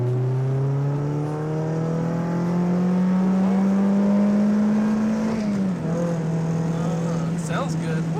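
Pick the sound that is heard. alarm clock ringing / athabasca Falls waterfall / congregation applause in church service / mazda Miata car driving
mazda Miata car driving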